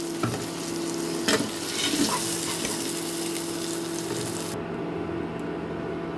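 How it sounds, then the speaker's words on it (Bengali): Pumpkin pieces fry in mustard oil in a pan, giving a loud, continuous sizzle with occasional clatter from stirring and no voices over it. "এখন আমি এর মধ্যে কুমড়োগুলোকে ভেজে নেব"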